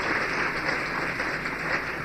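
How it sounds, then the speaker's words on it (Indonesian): A church congregation gives loud, continuous applause during a sermon, a steady dense roar of clapping with no breaks and no voices on top. "Beri tepuk tangan yang meriah kepada Tuhan."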